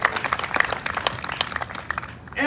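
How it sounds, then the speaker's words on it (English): Audience applause for New York State community band members at a seaside band gathering in Wildwood, New Jersey: steady crowd clapping, moderately loud, fading toward the end, with no speech over it. "Give the New York State folks a round of applause."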